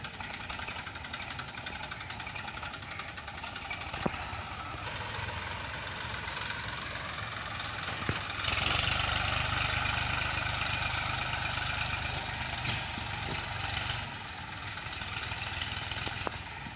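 A motor engine runs steadily at a moderate distance, a constant low drone with a few faint clicks and a slight rise partway through.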